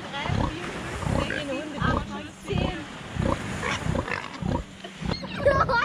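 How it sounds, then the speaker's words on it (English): Pigs, including piglets, at the swimming-pig beach in the Exuma Cays, grunting and squealing close by in a steady run of calls, with excited people talking throughout. "Now we are going to the swimming pigs. Oh, babies! Baby pigs!"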